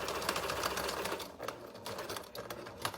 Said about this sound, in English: now I'm sewing across this end again and back stitching for strength and all the way back up.